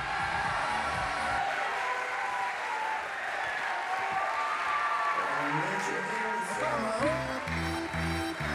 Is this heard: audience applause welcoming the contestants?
yes